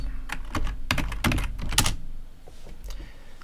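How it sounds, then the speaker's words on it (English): Someone typing a Linux terminal command on a computer keyboard, a quick flurry of close, clicking keystrokes that thins out toward the end, heard alone without speech. "now if we type in sudo apt"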